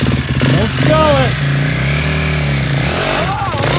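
A three-wheeler ATV engine runs close by, its pitch rising and falling as it revs, while people talk and shout over it.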